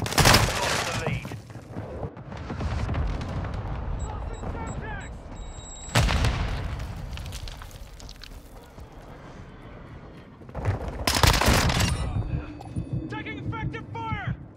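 Gunfire in a team deathmatch shooter video game, with bursts and sharp shots near 0–1, 6 and 11–12 seconds over continuous battle noise and aircraft drone, while voices talk through the mix.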